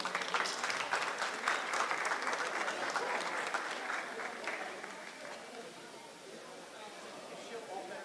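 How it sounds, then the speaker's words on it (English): Audience applause fills a steer show arena, a broad steady wash of clapping from a crowd that gradually thins and fades toward the end, with some voices mixed in. "give her a big round of applause"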